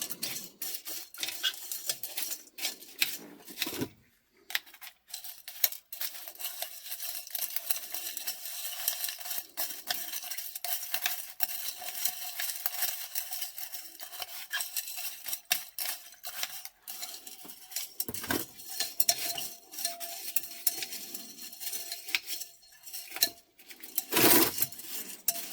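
An iodine alkaline gold stripping solution is stirred constantly in a container. Faint clinking scrapes and patters come in irregular rhythm throughout, with a few sharper knocks, quiet and close, with no talk.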